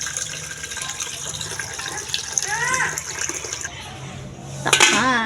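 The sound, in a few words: water being poured into a cooking pot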